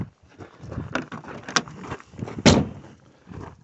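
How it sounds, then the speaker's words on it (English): A 1980 Triumph TR7's door thuds shut once, a solid slam standing out against low background noise and faint shuffling. "Oh, maybe I'll close the door here."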